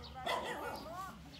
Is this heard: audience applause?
no